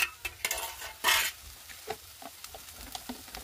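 Ground turmeric, cumin, chili and coriander powders with salt sizzle softly in a pan, broken by scattered scrapes and clinks of a stirring spoon, one louder clatter midway.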